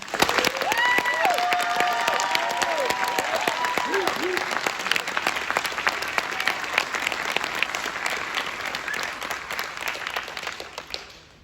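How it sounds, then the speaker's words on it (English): Graduation audience gives a sustained round of applause, dense clapping from many hands filling the hall, with a few voices rising over it early on before the clapping fades at the end. "I would like everybody to give a round of applause for us making it this far."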